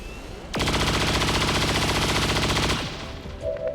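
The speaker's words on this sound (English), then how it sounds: "Cannons away!" Cannon fire in the XCOM Long War video game: a dense, rapid burst of shots lasting about two seconds, loud and continuous, then cut off sharply with no talk over it.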